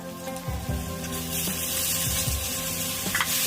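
Tomato goes into turmeric and chili powder frying in a pan for a rustic Medinipuri spicy meat dish, producing a loud, continuous close sizzle with faint stirring scrapes.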